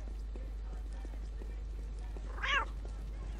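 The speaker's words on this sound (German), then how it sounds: "Drei Katzen. Sehr schön." Cat meowing in the video game Postal 2, a single short mid-pitched meow heard faintly over a steady low hum and quiet game ambience.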